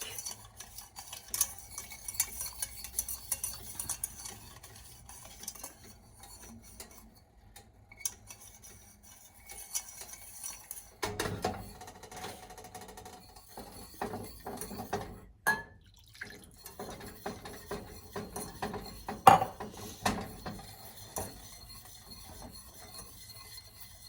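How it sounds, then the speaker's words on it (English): Milk bread ingredients are whisked in a bowl for Japanese shokupan, producing soft, irregular stirring and tapping scrapes with occasional louder clinks, fairly quiet throughout with no talking. "We have to whisking for a few minutes until they combine very well and a little bit thick."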